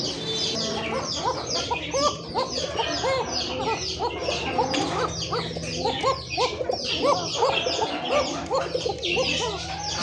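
Several chickens call steadily in a mixed poultry and pigeon pen, rapid overlapping clucks and cackles forming a busy, close chorus with no talk over it.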